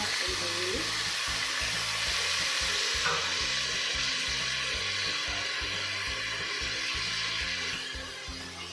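Capsicum and tomato sizzle and fry steadily in a pan with occasional stirring, a loud continuous crackling hiss that eases slightly near the end.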